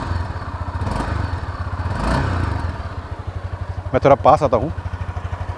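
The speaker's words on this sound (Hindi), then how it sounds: "बाइक अभी आइडलिंग पे है and now a bit of रिव्स।" A 2022 Honda CB300F motorcycle idles with a steady low throb close to the rider, then gives a short burst of throttle revs near the end; someone speaks over the idle.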